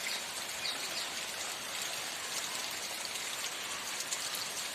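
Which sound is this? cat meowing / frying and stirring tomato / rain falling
rain falling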